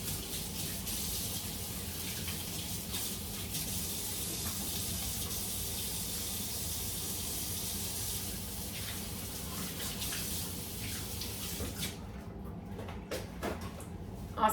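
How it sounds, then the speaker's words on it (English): Steady tap water runs continuously into a sink during hand washing, a broad even rush that holds almost to the end before cutting off into quieter handling sounds. "I'm gonna wash my hands."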